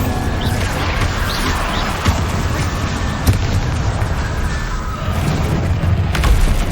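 Bombarda spell blasts go off in Hogwarts Legacy combat, with booming crashes and thuddy impacts over a dense, loud wash of game effects, a few hits standing out sharply.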